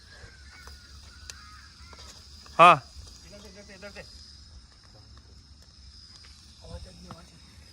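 A jackal calls before dawn near a mountain campsite in rain, one loud sudden wavering howl followed by fainter yelps, while campers speak quietly nearby.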